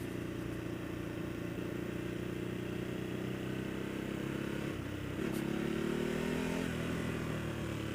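A Ducati Hypermotard 939 ridden in sport mode on a road gives a continuous engine drone under steady wind rush, with the pitch shifting and rising slightly partway through.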